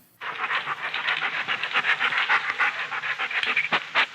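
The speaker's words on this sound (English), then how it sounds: "She began walking around the room, sniffing at almost everything" A puppy in a radio drama pants rapidly and sniffs close to the microphone, a quick continuous rhythm of breathy huffs at fairly loud level with no voices.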